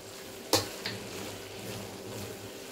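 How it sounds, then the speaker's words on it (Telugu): Khoya being stirred into carrot halwa in a pan with cardamom: a steady low frying sizzle with one sharp spoon scrape against the pan and a fainter second knock. "జర కొవ్వ మంచిగా కలుపుకోవాలండి"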